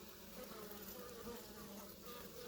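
A dense, continuous buzz of many bees fills the space, close and steady without pause.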